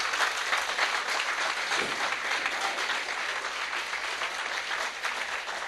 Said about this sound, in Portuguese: Dá um grande aplauso ao Senhor nosso Deus.